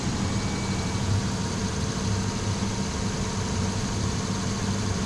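An LS V8 engine idles at around 750 rpm with a steady, even low rumble that holds without a break. No one talks.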